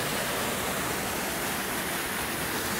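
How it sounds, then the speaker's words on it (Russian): An underground river pours from a rock wall as a waterfall in a ravine, giving a steady, even hiss of falling water that stays constant throughout. "А вот вода льется из стены."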